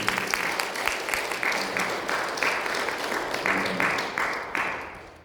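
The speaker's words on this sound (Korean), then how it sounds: "우리 격려의 박수를 한번 드립니다" A church congregation claps for the choir and the musicians after a Sunday worship service, a steady wash of many hands with slightly surging bursts that fills the room throughout.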